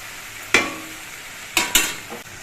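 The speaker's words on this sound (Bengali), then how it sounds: "সবজিগুলো বেশ কিছুক্ষণ ভেজে নিয়েছি" Vegetables frying in a pan after their water has cooked off, a low sizzle broken by a few sharp spoon scrapes and knocks against the pan, close by with no talking.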